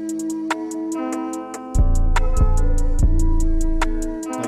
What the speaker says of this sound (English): And then I'm going to have the 808 kind of come in late.